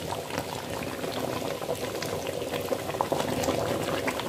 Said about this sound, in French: En même temps, je continue à faire bouillir mon haricot rouge.